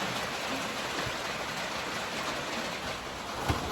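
Steady rain falls outside a deer blind, a dense, even hiss of drops that holds without a break. No one talks, and one faint knock comes near the end.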